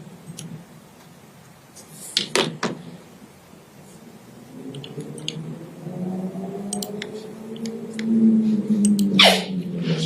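A person sneezes sharply at a sports team staff media session, with a couple of brief bursts standing out against quiet room noise and soft background sounds.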